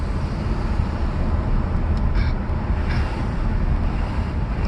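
Inside a Mercedes S600 W140 on the road, a steady broad engine and road roar fills the cabin as the car accelerates, loud and continuous with no talking.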